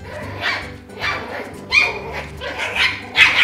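Mi-Ki puppies barking and yipping while playing, a run of close, high-pitched yaps coming in short rhythmic bursts, some with whiny edges.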